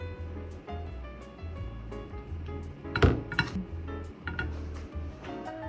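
Spicy sauce being stirred in a bowl before it is boiled, giving light clinks and scrapes of a utensil against the dish, with one sharper clatter partway through, under steady low background music.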